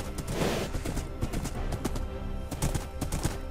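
Horse hooves clip-clopping with some neighing in a Minecraft UHC game, busy and fairly close, mixed with other clattering game sounds, and a faint voice now and then.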